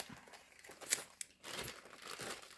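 Paper for a junk journal booklet is folded and creased by hand, making quiet, close crinkling and crumpling rustles in short bursts with a brief pause between them.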